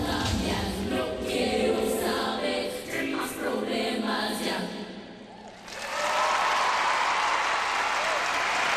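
A figure skating arena crowd at a team championship bursting into sustained, loud applause after a skate, with a commentator talking over part of it.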